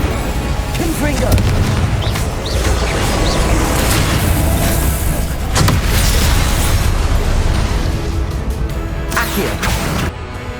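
Explosive booms from a Confringo blasting spell erupt during Hogwarts Legacy spell combat, with repeated loud blasts and crackling impacts over a dense game soundscape and voices.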